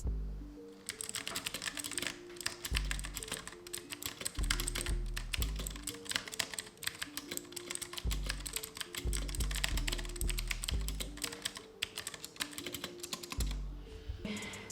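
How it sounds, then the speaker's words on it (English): Rapid clicky typing on a mechanical keyboard, keys clacking in quick irregular bursts with occasional heavier thocks, close and continuous. "for those curious souls who are wondering how this keyboard sounds, here's a sound test for you guys"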